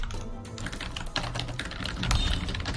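Rapid, continuous clatter of a computer keyboard being typed on close to a microphone, a dense run of key clicks with no talking.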